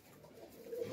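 A pigeon coos in a home loft during vaccination, a soft low murmuring call that swells toward the end of the moment, close by and alone.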